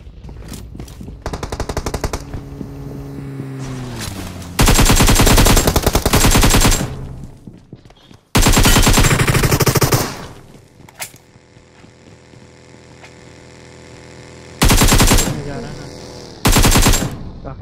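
Automatic Groza rifle fire in a mobile battle-royale shooter: several loud, rapid bursts of gunfire separated by quieter gaps, close and harsh, with game ambience between volleys.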